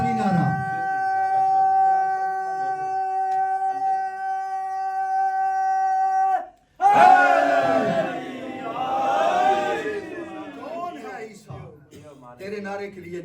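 A crowd at a Muharram religious gathering bursts into a loud, collective chanted slogan after a long sustained tonal hum. The voices are massed and resonant, then fade into softer murmurs.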